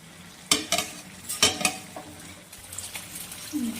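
Katla fish curry with potato and eggplant cooking uncovered in a pan, with a few scraping stirs of a spatula over a soft, steady background sizzle of frying.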